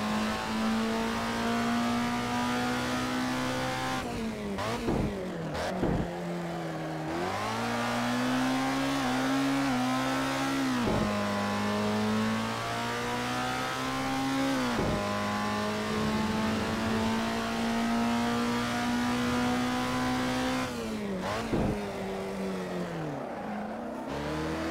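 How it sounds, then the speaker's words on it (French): A race car in Assetto Corsa drifting through corners, its engine droning and revving in long sustained pulls, with pitch dips at gear shifts and faint tire scrub, continuous and close with no talk. "regardez ça, le plaisir de déraper avec cette voiture"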